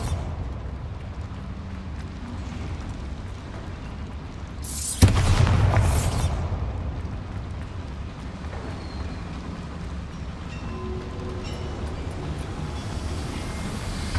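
A Bombarda blasting spell goes off in the video game Hogwarts Legacy, a single loud explosive burst with a rumbling tail that fades over about a second, standing out against steady ambient game background.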